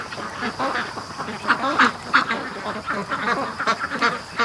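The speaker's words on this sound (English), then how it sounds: "here's some brave ducks coming back." A small group of free-range domestic ducks quacking repeatedly at close range by a lake, overlapping calls in an uneven chatter with no talking.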